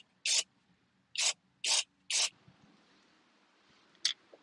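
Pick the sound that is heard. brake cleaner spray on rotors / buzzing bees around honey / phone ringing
brake cleaner spray on rotors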